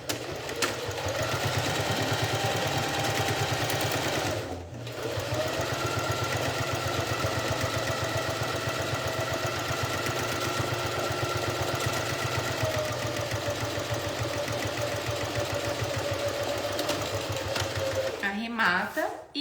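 A sewing machine runs close and loud, backstitching and topstitching a zipper pouch, its fast rhythmic whir pausing briefly near five seconds and stopping at the end, with someone speaking over it.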